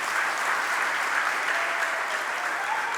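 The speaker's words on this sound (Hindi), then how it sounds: "बजाओ अपने भाग्य के लिए ताली" Steady, dense clapping from a crowd gathered for a Jain religious discourse (Mangal Pravachan), an even roar of hands at constant loudness with no one speaking.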